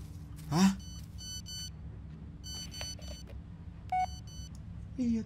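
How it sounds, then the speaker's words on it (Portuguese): A mobile phone rings in the Blair Witch game setting: two short tonal electronic rings at about 4 s and 5 s, clear and moderately loud over a steady low rumble, following an earlier sharp burst. "Tá o meu telefone a tocar ao mesmo tempo"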